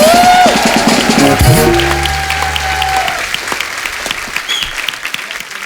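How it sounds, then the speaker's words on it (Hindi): Loud studio audience applause on a comedy talk show, a dense wash of clapping that starts strong with a brief musical sting and horn over it, then gradually thins and fades out. "एक बार जोरदार तालियां द किंग्स यूनाइटेड के लिए।"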